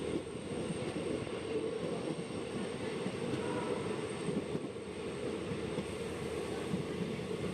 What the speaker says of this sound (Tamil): நம்ம வண்டி இப்போது செங்கோட்டை ஸ்டேஷனுக்குள்ளே ரீச் ஆகிடுச்சுங்க.